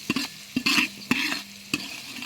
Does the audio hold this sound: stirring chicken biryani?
yes